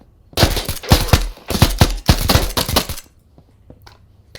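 Gunfire in the tactical shooter game Thunder Tier One, a close, loud burst of about a dozen rapid sharp shots in quick groups, then stopping into near silence.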